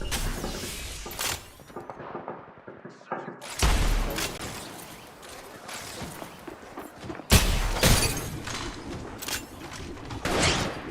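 Bursts of rapid gunfire and thuds from Apex Legends Mobile gameplay, loud and close with repeated volleys, pauses between them and game sound effects, while a player talks over part of the action.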